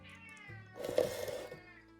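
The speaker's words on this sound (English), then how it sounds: "And a cat who is hungry." A hungry cat meows, a drawn-out harmonic cry rising in the middle into a louder, strained caterwaul before trailing off, heard close and alone.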